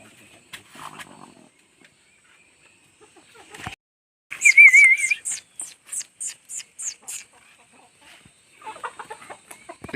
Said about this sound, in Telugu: ఇక్కడ కోడి పెట్టిన చూసారా